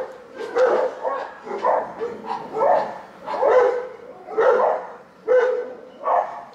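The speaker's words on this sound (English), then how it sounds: "Why are you barking?" Several dogs bark repeatedly at passing boats in bursts, close by and loud, with short yips mixed in and brief pauses between volleys.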